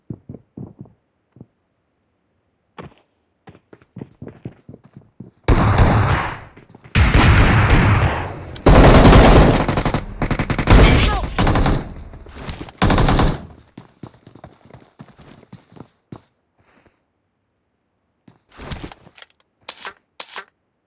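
Gunfire in the Free Fire shooting video game: scattered single shots at first, then long, loud rapid automatic bursts in the middle, easing back to sparse shots and a brief late volley, with no talking.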